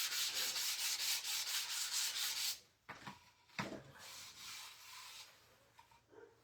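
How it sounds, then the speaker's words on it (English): A wooden beadboard sign is sanded by hand, giving a rapid, rhythmic scratchy rubbing that stops partway through. A few faint knocks and quieter rustling follow, all close and soft. "Okay, we sanded it"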